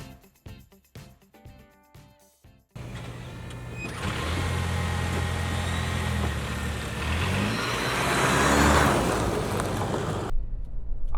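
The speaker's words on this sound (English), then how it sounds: "Out here for a drive in the 4Runner" A 2025 Toyota 4Runner Trailhunter SUV drives along after an off-road trail, a steady road and engine rumble heard from inside the cabin. Brief clicking and music come before it, and the rumble cuts off near the end.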